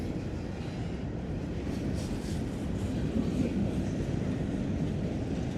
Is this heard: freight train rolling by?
yes